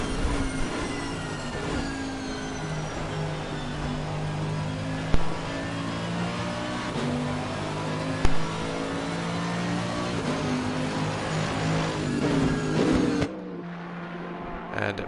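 Race cars in a racing game at Monza roar continuously, with engine tones shifting through gears and occasional sharp spikes, before the sound drops to a quieter hum near the end.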